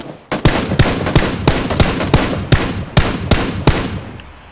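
Automatic gunfire in a PUBG-style battle royale match: a loud, close run of about ten sharp rifle shots at a steady rapid rhythm, each with a quick ringing tail, with no voices over it.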